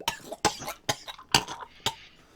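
A voice imitates a dwarf coughing and spluttering after nearly drowning, five sharp, close coughs spaced about half a second apart, with no words spoken.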